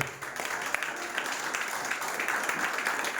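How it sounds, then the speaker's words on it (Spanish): A Christian church congregation in Albal, Valencia applauds together, a soft, steady wash of many hands clapping that stays fairly faint and distant throughout. "Den ese fuerte aplauso al Rey."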